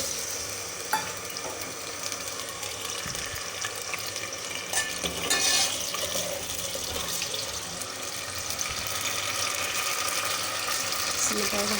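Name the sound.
potatoes frying in oil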